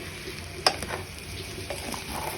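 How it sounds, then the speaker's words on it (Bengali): Vegetable fried rice is stir-fried Chinese style in a pan, a steady close sizzle with a sharp spatula knock early on and softer scraping strokes as the rice is tossed. "এরপর সব কিছু আরও কিছুক্ষণ চুলায় নেড়ে চেড়ে রান্না করে নিব"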